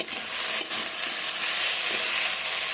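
Fish curry with potatoes being stirred in a pan, a bright steady sizzle with soft scraping strokes, close and continuous with no talking.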